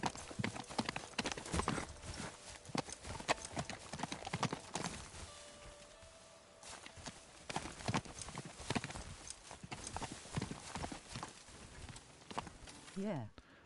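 Horse hooves clip-clop in the video game Teardown, a steady run of close, crisp hoof strikes with a short quieter stretch midway, while people talk over the sound.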